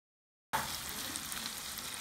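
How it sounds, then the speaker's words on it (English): Precooked beef sizzles steadily in a hot pan after a sudden start, a constant crackling fry close by. "I'm going to be frying for 2 to 3 minutes because my meat is already cooked"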